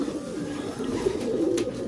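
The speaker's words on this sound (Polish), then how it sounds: "Roczne gołąbki przyleciały, zobaczcie." Yearling homing pigeons coo softly and repeatedly, a low throaty burble from a few birds close by, with faint rustling behind.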